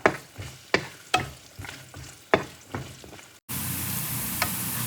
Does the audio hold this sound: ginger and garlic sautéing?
yes